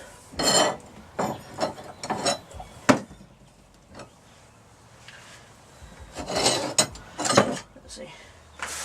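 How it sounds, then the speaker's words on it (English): A coarse hand file working on a heart-shaped plant hanger: bursts of close rasping strokes, a short pause in the middle, then more strokes, with a sharp knock partway through. "we're going to be filing down"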